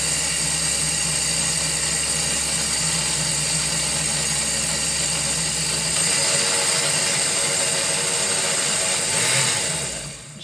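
A kitchen blender runs continuously at a loud, steady whir, crushing biscuits into fine crumbs for a strawberry cheesecake base; the motor pitch shifts partway through, then the sound tapers off near the end.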